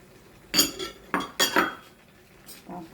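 A metal spoon stirs pakbet seasoned with bagoong in a pot, making several bright clanks and scrapes against the side in uneven bursts, with quiet gaps between them.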